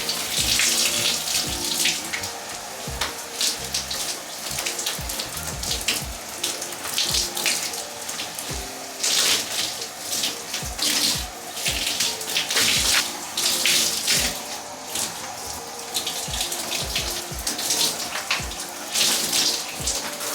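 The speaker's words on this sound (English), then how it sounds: "I probably should turn off this water, but I'm gonna rinse it out now" Tap water runs steadily while shampoo is rinsed out of braids, a continuous close splashing wash with scattered drips and patters and no talk.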